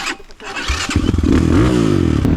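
A motorcycle fitted with a swapped ZS 172FMM big-bore engine pulls away close by, its engine note rising and shifting steadily as it accelerates through the gears, loud and continuous with no talk.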